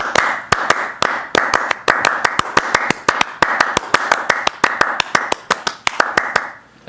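A small group performs Steve Reich's Clapping Music, producing sharp, evenly spaced claps in a rapid interlocking rhythm, loud and close, with recurring accented patterns running steadily for about seven seconds.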